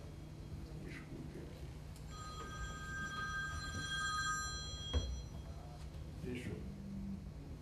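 A mobile phone ringtone sounds during a seminar talk, a run of steady electronic ringing tones at moderate level over a low room hum, with brief speech around it.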